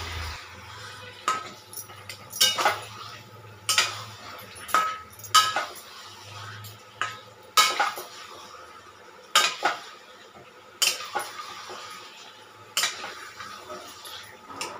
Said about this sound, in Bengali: এরপর আলুগুলোকে মশলার সাথে মাখিয়ে নিতে হবে, দিয়ে নাড়াচাড়া করে নিতে হবে।